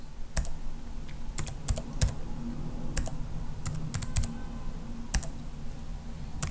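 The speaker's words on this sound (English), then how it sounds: "Type the credentials." Fingers type credentials on a computer keyboard in irregular clusters of crisp clicks and keystrokes against a low hum of room noise. Nobody speaks.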